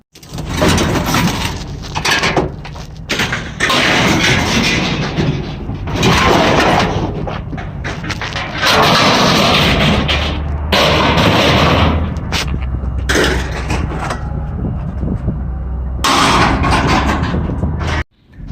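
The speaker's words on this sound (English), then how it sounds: "So we're gonna dump that in the sheet iron and we're gonna see how much we get." A scrap gas refrigerator dumped from a trailer onto a pile of sheet iron, heard as a run of loud, heavy metallic crashes and booming clangs with scraping and rattling between the impacts.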